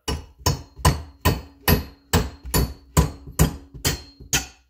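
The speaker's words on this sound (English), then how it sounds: "So we're going to get our percussive maintenance tool, also known as a rubber mallet." A rubber mallet taps a tight-fitting part onto a Pitbull motorcycle stand for a Ducati: about a dozen sharp, evenly spaced knocks, close and clear, each ringing briefly, with no talk.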